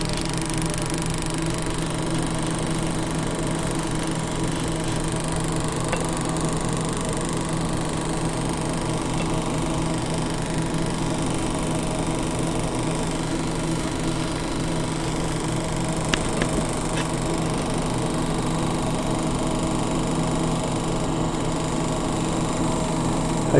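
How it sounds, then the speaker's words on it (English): An Arduino ignition simulator fires sparks across an ignition coil and spark plug, producing a steady, close buzzing drone that holds an even level throughout, with a few faint clicks and no talk. "And if I turn the voltage on there, we can see sparks being made."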